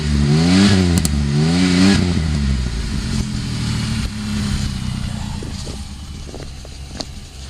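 A 1996 Chevrolet Camaro with carbon-fouled plugs runs rough, revving in two short swells before dropping into an uneven, lumpy idle with faint clattering, heard close with no talk.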